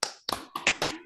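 Children clap a rhythmic chant, five sharp hand claps in a quick uneven pattern, close and fairly quiet.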